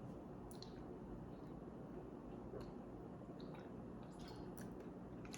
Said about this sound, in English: Had to get a little bit of water.